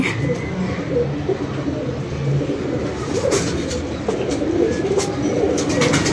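Pigeons coo repeatedly nearby in a net cage, soft throaty calls over a constant outdoor hum with occasional sharper bird notes.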